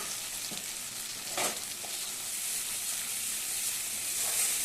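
Onion, ginger, dried red chilli, cashew and poppy seed paste fry in oil in a pan, giving a soft, continuous sizzle with a couple of faint scraping touches near the start.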